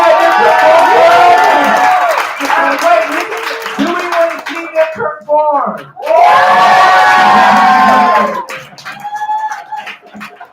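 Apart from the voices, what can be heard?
audience cheering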